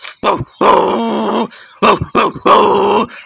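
Small toy dog producing a series of electronic barks and yowls in a children's toy vehicle setting, several loud bursts in quick irregular succession with short gaps between them, close and alone without talk.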